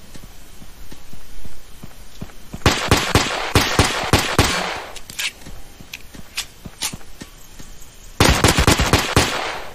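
Pistol gunfire in the Roblox game Death Zone comes as sharp, loud bursts of rapid shots in several clusters, with quieter game sounds between them.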